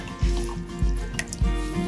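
Liquid is poured into Spanish hot chocolate at close range, giving a wet trickling stream broken by three soft, evenly spaced plops and drips, with no one talking.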